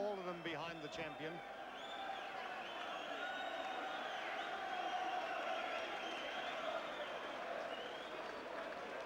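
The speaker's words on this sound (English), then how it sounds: "They're an ecstatic home crowd, of course." A home crowd of about 4,000 at an IBF world cruiserweight title boxing bout in Middlesbrough applauds and cheers steadily, a dense wash of clapping and voices with a commentator talking over it.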